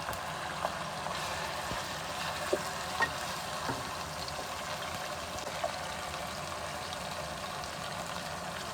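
Beef keema frying in garam masala, a faint steady sizzle with a few soft scraping clicks from stirring, continuous and low throughout.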